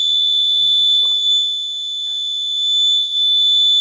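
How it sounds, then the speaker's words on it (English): A luggage anti-theft alarm sounds a loud, steady, piercing electronic tone that holds without a break, while a voice speaks briefly and faintly beneath it. "Alarm on."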